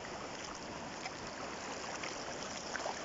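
Very cold mountain stream water rushes under a small man-made bridge at a quiet scenic spot, a continuous broadband rushing and trickling that stays steady and close throughout, with no voices.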